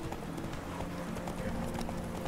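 A horse gallops in a horse race in the video game The Witcher 3, its rapid clip-clop hoofbeats running steadily under game music, with a voice talking faintly.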